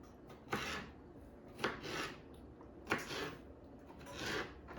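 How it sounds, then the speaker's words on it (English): A knife chops tomato on a cutting board for stuffed peppers, with four separate bursts of quick, crisp cuts spaced about a second apart, fairly quiet and with no voices. "So my tomato, just chop it up into little shreds."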